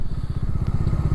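Bajaj Dominar 400 motorcycle on a highway, its engine giving a fast, even, close low thumping pulse throughout the short stretch, with faint wind noise above it.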